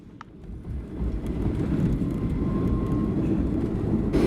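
A small commuter plane touches down in Belize: a close engine and rolling roar builds after a short click and holds loud and steady, heard from inside the cabin.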